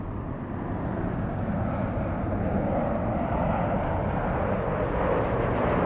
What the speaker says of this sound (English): And arriving right now, we have a 737 Southwest.